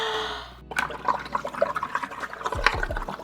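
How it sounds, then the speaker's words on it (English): A straw blows into a cup of watery paint, giving an irregular run of bubbling, gurgling pops up close after a short hiss and a pause. "Next step, you blow bubbles."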